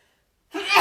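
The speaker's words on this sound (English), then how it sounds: "Pardon my sneeze," A single sharp sneeze bursts out close and loud after half a second of silence, ending in a breathy exhale.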